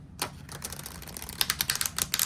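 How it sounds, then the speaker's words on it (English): Tarot cards riffle-shuffled up close, a quick run of crisp papery flutters and snaps that grows denser and sharper toward the end. "that's a good shuffle."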